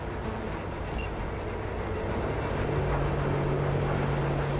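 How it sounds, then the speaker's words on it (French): In the video game Cyberpunk 2077, a train rolls past with a dense, continuous rushing roar and a low steady hum, loud and close throughout, with no talking. "Coucou petit train."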